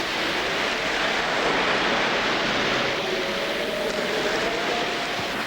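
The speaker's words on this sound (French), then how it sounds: "un fort vent se lève, doublant de vagues courtes la houle de l'Atlantique" Strong wind and choppy short waves over an Atlantic swell make a loud, steady broadband roar that continues throughout, with a faint low engine-like drone underneath and no voices.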